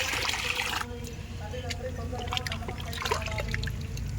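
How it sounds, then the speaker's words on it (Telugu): Water is poured from a mug into a container while a plant-feeding solution is prepared, a soft trickle and splash running beneath continuous nearby talk. "ఈ మగ్గుతోటి రెండు మగ్గుల నీళ్ళు అయితే నేను ఇందులో పోసుకుంటున్నా చూడండి ఇట్లా"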